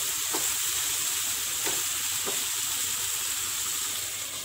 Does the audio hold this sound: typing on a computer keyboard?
no